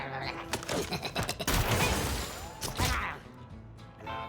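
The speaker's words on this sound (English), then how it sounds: "he is going to shoot me." An enemy firing at the player in Mewgenics: a loud burst of shots and crashing impacts over a few seconds, with a voice speaking beneath.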